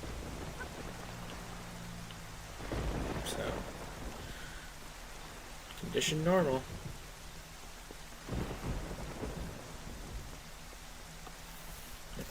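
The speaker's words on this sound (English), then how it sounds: "we've been getting a lot of rain lately" Rain falling steadily in The Legend of Zelda: The Wind Waker, with rolling thunder rumbles breaking out a few times over a constant wash of rainfall; a voice speaks briefly over it.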